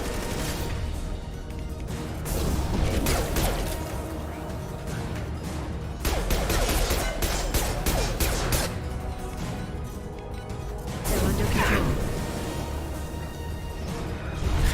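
Pistol fire in Mass Effect 2 crackles in rapid sharp bursts, with dense clusters of shots and impacts alternating with quieter gaps amid game combat noise.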